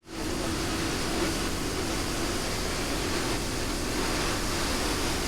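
A motorcycle cruises at 70 km/h with microphone noise cancellation switched off, producing a loud, steady roar of wind and engine rumble that fills the entire clip with no breaks.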